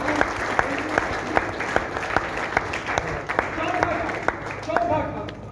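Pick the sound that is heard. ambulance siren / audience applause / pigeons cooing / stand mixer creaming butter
audience applause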